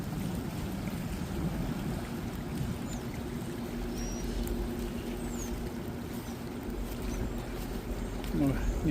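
Water on the Hudson River rushes back in after a passing ship, churning steadily nearby with a continuous swishing roar, while voices talk over it.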